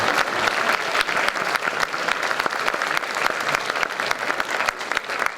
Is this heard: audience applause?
yes